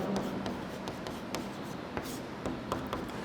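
Marker or chalk scratching across a board while working a class 6 maths problem on prime factors, a steady run of short strokes and taps, close and fairly quiet.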